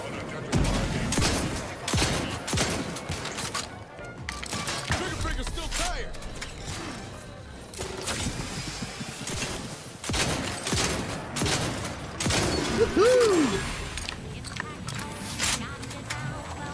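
Gunfire from a shotgun in the video game The Outer Worlds 2, bursts of shots and clattering action effects running throughout a busy combat mix, with a voice talking over it.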